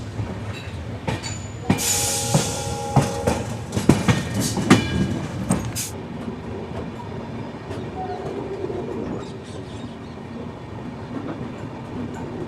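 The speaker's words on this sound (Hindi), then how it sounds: "इस वक्त हमारी ट्रेन काफ़ी स्लोली लालगढ़ जंक्शन को स्किप कर" Kochuveli Express train rolling slowly past Lalgarh Junction, with loud metallic clanks and clatter of the carriages early on, then settling into a steady, softer rumble of wheels on rails.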